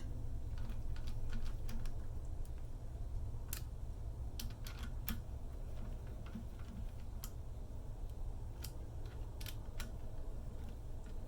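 A torque wrench tightening bolts on a Mazda B2000 valve train during a hydraulic-to-mechanical swap: faint, scattered sharp clicks over a steady low background hum, with no voice.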